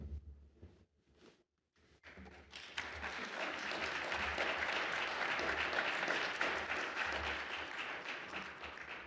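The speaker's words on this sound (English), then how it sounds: "give a round of applause" Audience applause for an award winner at a science award ceremony, swelling after a few faint taps into steady, sustained clapping that fills the room and carries on loudly to the end.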